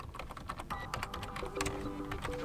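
Rapid keystrokes on a computer keyboard entering a password, a close, even patter of light clicks continuing steadily, with faint electronic tones underneath.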